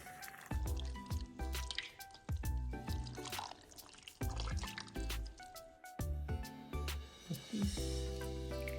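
Water is poured into a cooking pot while preparing fish pinangat, giving a close, steady liquid fill with drips, splashes and sharp clinks of the pot throughout.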